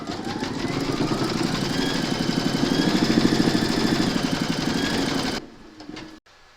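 An embroidery machine stitching a four leaf clover coaster runs with a steady, rapid mechanical whirr and needle chatter for about five seconds, close and loud, then stops abruptly, leaving a few faint clicks.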